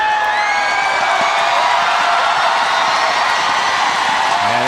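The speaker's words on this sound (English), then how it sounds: "And the crowd roars" A volleyball crowd at an AVC Challenge Cup 2024 match between the Philippines and Iran fills the arena with a steady, dense roar of cheering and whoops, loud and continuous throughout, with no clear gaps.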